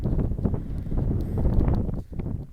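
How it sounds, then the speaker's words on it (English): A gale blows across an exposed hilltop in Northumberland, a loud, continuous low rumble of wind buffeting the microphone that swells and eases with gusts, with no voices. "It's absolutely blowing a gale up on the top there"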